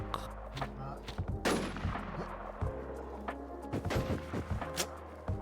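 Gunfire from the video game Warz II comes in bursts of sharp, loud shots and rapid volleys over a dense, busy game soundscape, with brief snatches of voices mixed in.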